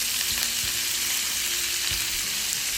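Diced peppers and onions sauteing in butter and olive oil, a loud continuous sizzle close up with a few low scrapes of stirring.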